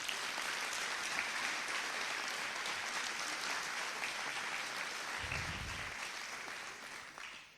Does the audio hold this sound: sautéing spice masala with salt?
no